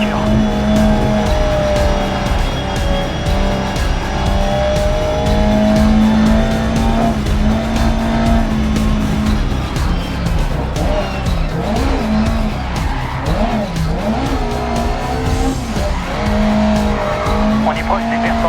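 A race car engine in the video game Grid Legends roars continuously at high revs, pitch rising and dipping as it corners, with tire squeal and a voice talking over it.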